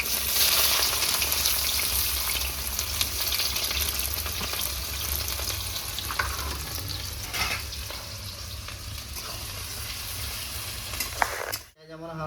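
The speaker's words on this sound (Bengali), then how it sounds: "পেঁয়াজ আমার হালকা ভাজা হয়ে গেছে" Onions for chicken chukka sizzling steadily in a hot pan, a continuous loud frying hiss with occasional stirring, ending in a brief clatter.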